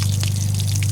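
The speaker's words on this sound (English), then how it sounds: "But it's gonna let a lot of water out." Water runs steadily out of thirty-year-old faucet plumbing, a continuous close-up gush with a low hum beneath it and faint splashes on top.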